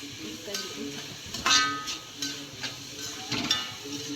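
Ingredients being sautéed in a pan for Kerala-style beef curry, with intermittent stirring scrapes, soft sizzling and a few metallic clinks, a voice speaking quietly in the background.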